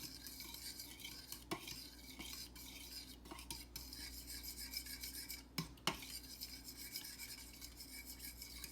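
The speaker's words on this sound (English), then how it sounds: "now we have to mix in our dry yeast" Dry yeast being stirred into a bread dough mixture for giant pandesal, a soft faint scraping and rubbing of utensil against a bowl with occasional light clinks, steady and close, no talking.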